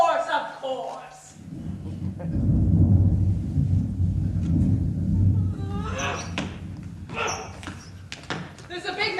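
A long, heavy low rumble of stage thunder swells and rolls for several seconds during a live performance of a Greek drama, with voices heard at the start and end.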